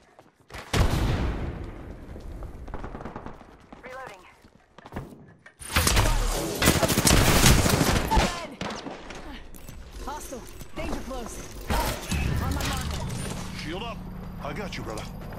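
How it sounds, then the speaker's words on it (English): Rapid bursts of gunfire from an Apex Legends battle, loud and dense in clusters with sharp impacts and mechanical clatter, mixed with game voice callouts between volleys. "Getting shot at."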